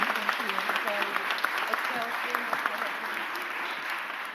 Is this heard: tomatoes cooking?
no